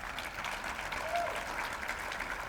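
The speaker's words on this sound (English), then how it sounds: "So give my good friend, Mickey Ibarra, one more round of applause." Luncheon audience in Albuquerque gives a steady, dense round of applause, fairly faint and distant, holding evenly throughout with no clear talk over it.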